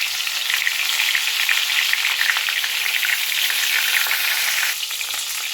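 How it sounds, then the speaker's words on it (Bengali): Tilapia fish wrapped in bottle gourd leaves frying in hot oil in a kadai, giving a loud, steady, crackling sizzle that stays constant from start to finish. "এবার এক এক করে এগুলো সব এর ভিতরে তেলের মধ্যে ছেড়ে নেব।"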